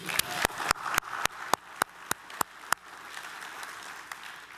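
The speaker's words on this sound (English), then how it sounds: "So I'd like to give Scott a little round of applause for just making it." An audience at an energy summit gives Scott a brief round of applause, starting as a few sharp, separate claps that spread into a moderate patter and fade after a few seconds.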